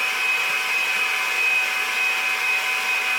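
An electric mixer beats a gluten-free vegan pumpkin cheesecake mixture on medium speed, giving a constant, even motor whine with airy whirring and no pauses.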